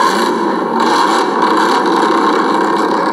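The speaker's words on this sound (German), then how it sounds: "So ein Leerlauf hört er sich an wie so ein V8, Big Block oder was?" A V8 idle from a sound module in a Reely Dune Fighter 1:10 RC car hums continuously at close range, a deep, throaty rumble with a faint whir, even in loudness throughout and with no voices.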